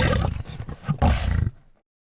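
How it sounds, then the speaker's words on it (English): A lion roars in two loud, close, deep bursts that fall off into silence, with no talk over them. "Lions say, roar, and are called the kings of the jungle."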